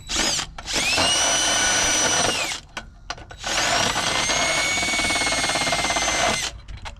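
A power drill bores into brass on an Aermotor 702 windmill pump, whining in two long high-pitched bursts with a short pause between, close and loud.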